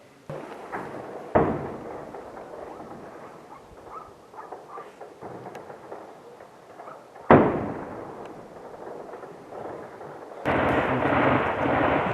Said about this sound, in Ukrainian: От зараз, до речі, це теж був вибух, це скорше всього вог.